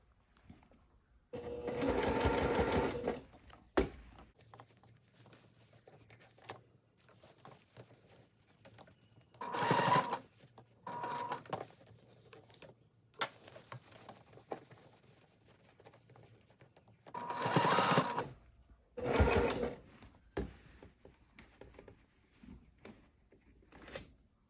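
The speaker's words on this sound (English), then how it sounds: "this top stitch will catch the lining as I go and fully enclose that seam" A sewing machine topstitches a seersucker dress, catching the lining, in several separate loud runs of rapid needle chatter, with quiet handling and small clicks between the bursts.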